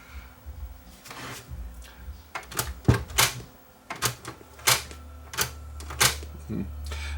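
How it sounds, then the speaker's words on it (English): A cassette tape is loaded into a JVC RC-X240 boombox: a series of close plastic clicks, clacks and mechanical snaps from the cassette door and deck, spaced irregularly over a low hum. "Let's put this tape in here and just see whether this thing plays."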